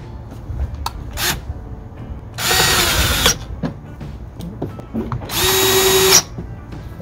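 A power drill drives fasteners while the guard is refitted on a mitre saw, giving two loud whirring bursts of about a second each between quieter clicks and handling noises nearby.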